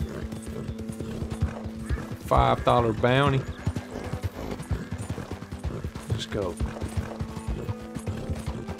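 Rhythmic clip-clop of horse hooves galloping in Red Dead Redemption 2, a steady fast beat throughout, with a horse whinny partway through and someone talking over it.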